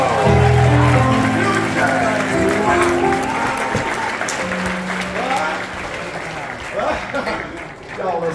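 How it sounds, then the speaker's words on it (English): Audience applause at an award ceremony, a loud crowd clapping throughout with music and voices mixed in, cheering rising near the end. "Give him another big round of applause."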